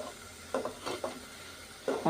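Masoor dal lentils being dry-fried in a pan give soft scraping stirs and faint sizzling, a few brief strokes against a quiet kitchen background.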